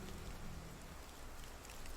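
Rain in Medieval Dynasty, a steady, even hiss of falling drops that stays faint and unbroken throughout.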